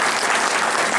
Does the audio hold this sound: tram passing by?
no